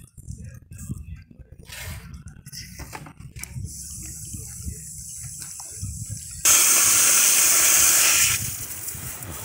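Water spraying hard from a 100 mm water main tapped with a saddle clamp during a plumbing connection, a broad loud hissing gush that swells sharply near the end, with someone speaking over it.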